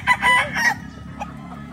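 Rooster of a Toppy Muff White General and Butcher bloodline crowing close and loud in a short burst among chickens, followed by softer clucks and quiet background.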